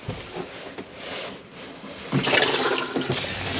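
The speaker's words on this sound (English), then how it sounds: "The toilet flush is from the main fresh water." Cassette toilet in a Bessacarr 442 motorhome flushing with water from the main fresh water supply: a soft hiss that swells into a louder rushing gush of water near the end, heard close with no talking.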